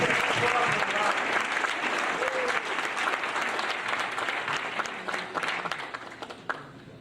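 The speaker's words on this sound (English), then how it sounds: "let's give them a round of applause" Guests at a class reunion applaud the homeroom teachers, a loud burst of clapping that gradually thins and fades, with some chatter and a voice faintly under the crowd.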